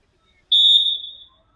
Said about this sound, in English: A match official Danish has blown the whistle and we're off to the first game